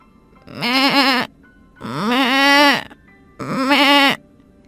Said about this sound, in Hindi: उसकी बीमार बकरी मुंह घुमाकर जोर जोर से मिमियाने लगती है